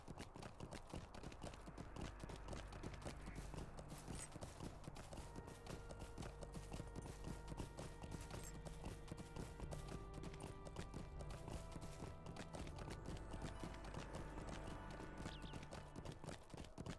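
Horse hooves clip-clop in a steady, continuous rhythm as a mount travels through Mordor in the online game Lord of the Rings Online, with game music playing underneath throughout.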